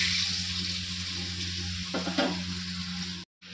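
Potatoes fry in a wok, a loud, steady sizzle of hot oil over a low hum, with a brief scrape or stir near the middle and a sudden short cutout near the end.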